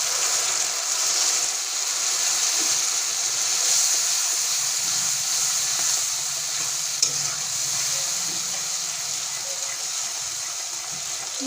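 Spice paste frying with onions for a village-style Bengali prawn curry, a steady close hiss and sizzle with soft stirring scrapes throughout and no talk.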